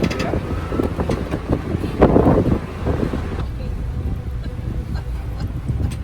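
Wind gusting across the open deck of a sailing catamaran, a steady broad rush with a stronger buffet near the middle, carrying low boat and water rumble throughout.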